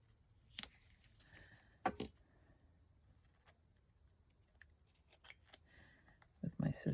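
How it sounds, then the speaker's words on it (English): Scissors snipping through pretty fabric for a journal pocket, a few sharp, brief cuts scattered across a quiet room, close and crisp, with a soft voice murmuring between them. "With my scissors that don't want to cut."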